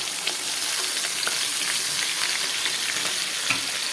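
Small pieces of hilsa fish sizzle steadily in hot oil, with a dense, continuous crackle throughout and a few sharper pops near the end, no voices.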